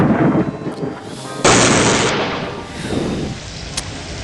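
A severe thunderstorm in a Discworld video game: rumbling rain noise is broken by one sharp, loud crack of lightning that decays into a fading roar.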